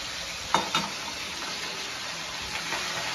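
Sliced onion sizzling in hot oil in a pan for a dry fenugreek-leaf vegetable dish, a steady close fry with two quick scraping stirs near the start and a continuous crackle after.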